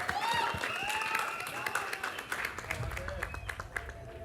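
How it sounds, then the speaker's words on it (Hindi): An audience claps for an actor at a trailer launch event while music with tonal lines plays over it and a voice talks through the applause, which thins out toward the end. "जीतू वर्मा साहब के लिए जोरदार तालियां"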